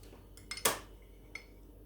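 A metal spoon scooping cooking oil from a glass cup in a home kitchen: a few close, bright clinks and one sharp scrape in quick succession, then a single faint tap, with no voices.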